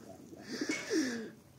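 A domestic pigeon coos close by, a soft throaty series of short pulses rising into a longer rolling coo over quiet background noise.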